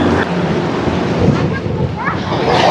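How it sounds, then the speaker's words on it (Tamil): A boat cruises through Dubai Marina with a steady rush of water and wind buffeting the microphone, a dense continuous wash with faint voices beneath. "போட்டை ஓட்டிகிட்டு இருக்காங்க"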